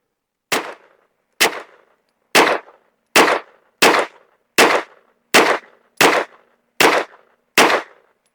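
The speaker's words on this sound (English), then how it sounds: "we got 10 rounds of Winchester White Box 115 grain loaded up. We're just going to shoot some groups" Ten gunshots from a CAA MCK Gen2 firing Winchester White Box 115 grain rounds, loud sharp cracks at a steady pace of roughly one per second, each with a short decaying tail and silence between.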